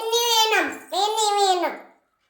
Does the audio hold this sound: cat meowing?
no